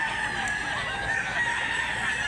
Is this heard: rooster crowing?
yes